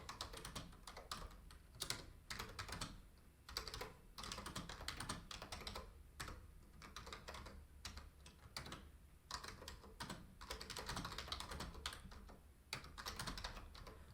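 Steady, close typing on a computer keyboard, quick runs of light key clicks broken by short pauses, with no voices.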